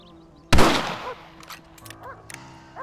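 A single sharp, loud rifle shot in the Red Dead Redemption video game cracks out and decays into a fading echo, followed by faint scattered ambient sounds.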